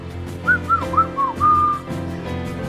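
A man whistles a short, casual tune alone: several brief rising notes followed by one longer held note, fairly close and clear over a low, steady background.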